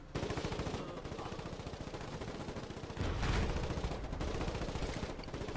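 A light tank destroyer's gun firing at an enemy in the wartime game Foxhole, sounding as a steady rapid stream of loud mechanical shots with rumbling engine noise beneath, growing heavier partway through.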